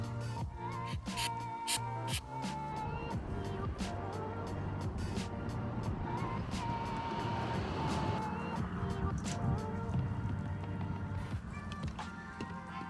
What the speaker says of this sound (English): Busy road, lots of traffic going by.